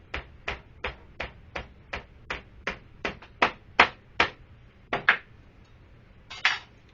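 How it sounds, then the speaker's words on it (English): Steady, evenly paced hammer blows, about a dozen sharp knocks in a row on a pumpkin being split, close by, followed by a couple of slower, heavier hits. "just hammer it down."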